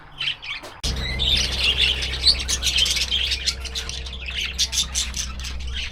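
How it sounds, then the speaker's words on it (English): Little chickadees chirp and twitter in bursts at a roadside rest stop on Highway 1, busy and fairly close after a sudden start, over a low steady rumble. "And they have all the little chickadees."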